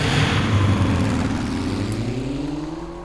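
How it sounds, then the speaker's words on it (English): Motorbike engines roar in the video game 428 Shibuya Scramble, a loud revving drone whose pitch climbs steadily as the bikes accelerate away, heard alone without speech. "Hearing the bike engines roar to life."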